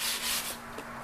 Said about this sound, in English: I sand every inch of the bench.